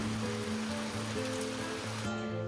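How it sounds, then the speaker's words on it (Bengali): Steady rain pours outside a home on an overcast afternoon, an even rushing hiss heard from inside a room, with a faint tonal melody layered on top before the sound briefly dulls near the end. "বলতে বলতেই বৃষ্টি চলে এসেছে"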